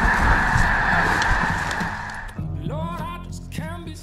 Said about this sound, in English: There's thousands of snow geese up here.